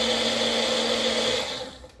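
A blender whirs steadily through a strawberry and banana smoothie, a loud, continuous motor drone with a bright whine that holds level for most of the stretch and then begins to wind down near the end.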